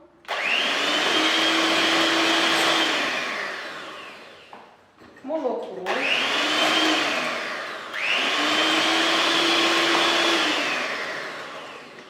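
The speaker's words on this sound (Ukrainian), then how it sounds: "додаю яйця, ванільний цукор та починаю збивати міксером" An electric hand mixer whips eggs and vanilla sugar for Belgian waffle batter in a cooking class, a loud steady whine that stops for a moment around the middle and then starts up again.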